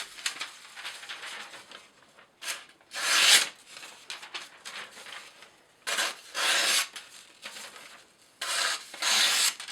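An S30V steel knife with a toothy edge and DLC coating saws through rope in several rasping, fibrous strokes, some short and some drawn out, with pauses between them, heard close with no talk.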